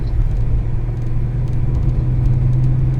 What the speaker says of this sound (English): I'm literally just tickling the throttle, nowhere near half.